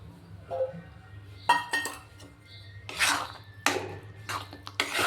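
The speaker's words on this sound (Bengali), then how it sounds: "এখন আমি এখানে চিংড়ি মাছগুলো ঢেলে দেব" Shrimp tip into a cooking pot of taro in a Bengali home kitchen, bursts of clinking and clattering against metal with splashy rattles between quieter pauses.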